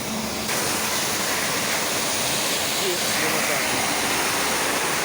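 Steady, loud rushing wind noise from a moving car, a broad constant roar with rain hissing against glass treated with YOCHEM anti-rain coating, oncoming wind blowing water off without wipers.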